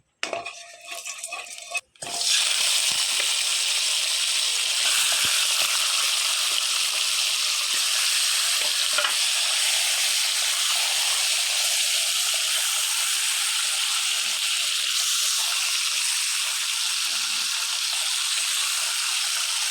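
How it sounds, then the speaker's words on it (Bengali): Rohu fish heads drop into hot oil one by one: a few seconds of clattering from the pan, then a loud, steady, close hiss of frying that runs on unbroken for well over fifteen seconds. "এখন আমি মাছের মাথাগুলি ভেজে নেব এক এক করে"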